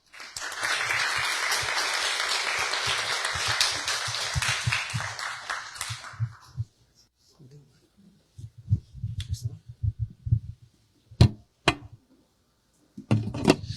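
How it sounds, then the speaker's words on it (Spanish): Sustained audience applause at a formal conference on the battles of Junín and Ayacucho, loud and steady for about six seconds before fading into scattered footsteps and faint clicks in a quiet hall. "capitán Cristian Anthony Rodríguez, a quien recibimos con fuertes palmas."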